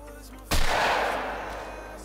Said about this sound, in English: Definitely try to take a shot at this guy.